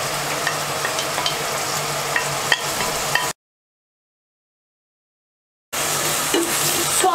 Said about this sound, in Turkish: Soğanların rengi dönene kadar kavuracağım.